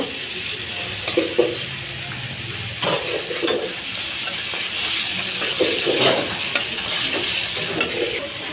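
Ground chili paste hitting onions frying in oil, a loud close sizzle and hiss with repeated stirring scrapes and soft knocks of the spoon against the pan, continuing throughout without talk.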